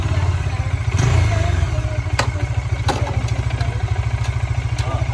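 A big motorcycle engine rumbles steadily up close with a rapid pulsing beat, a brief swell near the start and a few sharp mechanical clicks and clunks as it is shifted into first gear.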